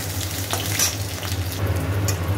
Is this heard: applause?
no